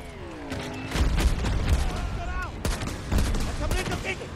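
Explosive booms and bursts of gunfire from Battlefield 2042 grenades, several loud blasts over about four seconds with a game voice talking over the din.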